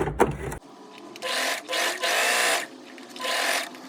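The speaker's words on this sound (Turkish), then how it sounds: "Çift iğne ile dikiyorum." Twin-needle stitching on a sewing machine along the edge of a child's boxer shorts, heard as several separate bursts of steady mechanical whirring with short pauses between runs.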